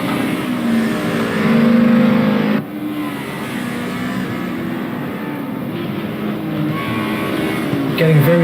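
DTM race cars lapping the Nordschleife in a 1992 revival race, an AMG among them, engines droning and shifting pitch as they pass, fairly steady throughout under a commentator's voice.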